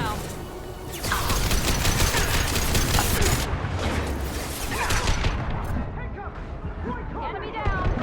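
Rapid bursts of gunfire and heavy booms from a Mass Effect 2 firefight rattle on densely for several seconds and then thin out, with a voice talking over the shooting.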